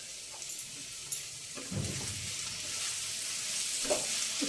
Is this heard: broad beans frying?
yes